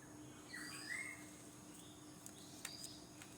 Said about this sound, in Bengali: পাখি ডাক দিছে